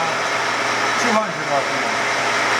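A Romi T14 14-inch by 40-inch metal lathe runs at 200 RPM in a machinery shop, a steady whirring hum with a broad airy hiss, and a voice briefly speaks over it.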